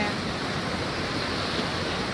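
Heavy volume of water rushing through a gate on a canal, a steady broadband roar that holds close and loud without a break.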